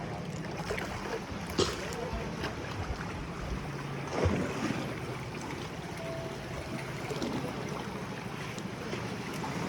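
A boat rides on the water at El Nido, Palawan, its steady engine rumble mixed with wind buffeting and water wash throughout, with occasional louder bumps.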